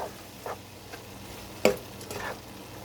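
A spoon stirs taco soup in a pot, giving a few soft, scattered scrapes and one sharper clink against the side, all quiet and close with no talking.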